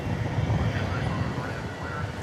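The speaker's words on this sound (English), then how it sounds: "From Cedar Rapids, Iowa, comes this American Airlines Airbus A319" An American Airlines Airbus A319 arrives at Dallas/Fort Worth Airport at night from Cedar Rapids, Iowa, as flight 2061, producing a low, steady engine rumble at a distance, briefly heard under someone talking.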